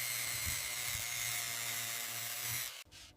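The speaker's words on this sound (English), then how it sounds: "Excess weld material is carefully ground away, smoothing the joints for a flawless finish." A grinder smooths away excess weld material on bicycle frame joints in a factory. It gives a steady, close, high whirring drone with slight pulses, then cuts off abruptly near the end.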